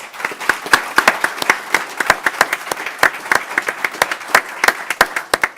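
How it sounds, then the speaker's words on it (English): Audience members at a school board meeting give a round of applause for Mr. Ronnie Roberts, with sparse, distinct individual claps ringing out close by at an irregular, fairly brisk pace. "So if we can give him a big round of applause."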